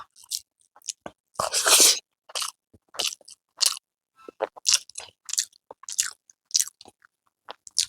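Close, crunchy chewing and biting while eating rice mixed with plain dal, in irregular wet bursts separated by short pauses, with no talk.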